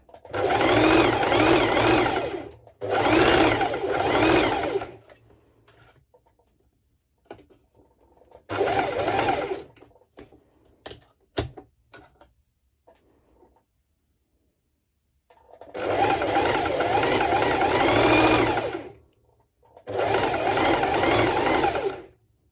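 A sewing machine stitches two layers of bikini bottom fabric together. It runs in loud, close bursts of a few seconds each, with quiet handling and clicks during the pauses between runs.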